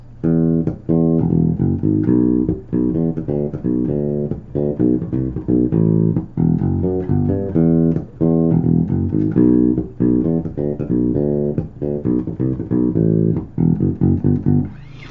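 A bass guitar plays the bass line from a song at full tempo, a fast, busy run of punchy, repeating notes with octave jumps, loud and close, played solo without voices.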